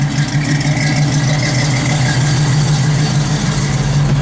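A 1968 Chevrolet Camaro with a performance cam idles close by, a loud, steady, low rumble with a slight lope throughout and no talking over it.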